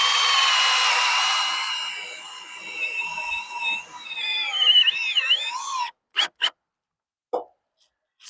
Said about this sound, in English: these screws have a square drive, so I'm just going to use my drill so it can self-tap into the metal and drive them all in here